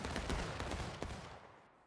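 A musket volley in the Civil War game War of Rights: a quick ragged crackle of many shots fired together, fairly faint and distant, rolling for about a second before fading out.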